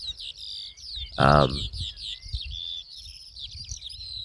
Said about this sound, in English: There's a bird right above me.